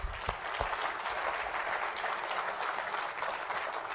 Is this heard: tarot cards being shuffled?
no